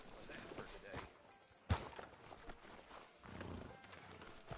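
Horse hooves clip-clop in Red Dead Redemption 2 as a rider stops outside a frontier sheriff's office, steady hoofbeats close by with a sharp thud midway, mixed under voices talking.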